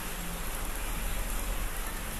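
Rain falls steadily and fairly loudly, a dense even hiss of drops hitting surfaces that continues throughout with no talking.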